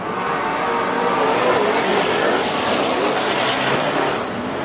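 Speedway race cars roar around a dirt track in a close, continuous engine wail with rising and falling revs as the pack sweeps into a corner, loud and dense throughout with no talk.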